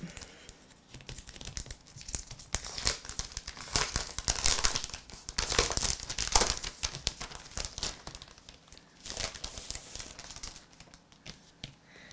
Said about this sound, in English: Great, heavy, thick cardboard.